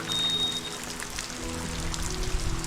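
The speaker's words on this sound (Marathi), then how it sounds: "पावसाने जोर पकडल्याने एका बंद घराच्या आडोशाला मी थोडा वेळ आसरा घेतला" Heavy rain pours down around an abandoned house in a deserted village, a dense, steady hiss of falling water with no voices, continuous for the whole stretch.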